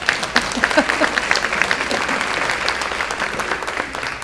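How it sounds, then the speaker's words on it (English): An audience at a school district State of the district event in Garland ISD applauds, with distinct individual claps at first merging into a steady wash of clapping. "give us a round of applause"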